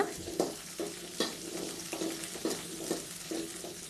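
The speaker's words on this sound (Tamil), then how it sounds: "எல்லாத்தையும் நல்லா வதக்கி விடுங்க." About ten small shallots and green chillies, with dried chillies, sauté in oil in a pan for curry leaf chutney: a soft, steady sizzle broken by regular scraping stirs roughly every half second, close and fairly quiet.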